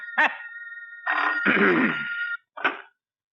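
An old-fashioned police station telephone bell rings in three bursts, the middle one long, with a rough throaty sound during the long ring.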